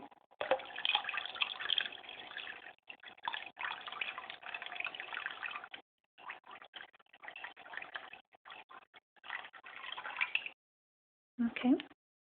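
Water pours into a freshwater aquarium tank in a steady, broadband splashing stream that breaks off briefly several times, then stops and returns for a short final burst.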